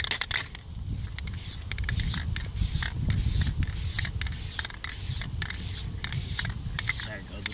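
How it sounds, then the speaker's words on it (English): Aerosol can spraying plastic dip coating onto a bowtie, loud close hissing bursts in repeated short pulses with brief gaps, some sputtering as the can runs low. "This one, that one's spraying better, but it's almost out."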